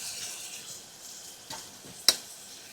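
Tomatoes roasting in a pan outdoors give a soft, steady sizzle, with a couple of faint clicks and one brief sharp tap as spices go in.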